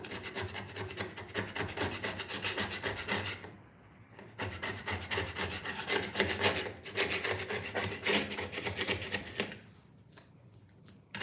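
A hand scraper rasps against the wood of an antique hutch in quick repeated strokes, close and fairly quiet, stopping briefly twice between bursts of scraping.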